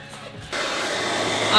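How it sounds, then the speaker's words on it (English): A heat gun switches on partway through and blows with a steady, loud, airy roar that holds without pause to the end, during fan installation work in a Sprinter van. "It's a heat gun."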